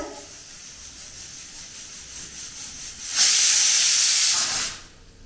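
Pressure cooker cooking rice: a quiet steady hiss, then a loud sharp burst of escaping steam that holds for about a second and a half before cutting off.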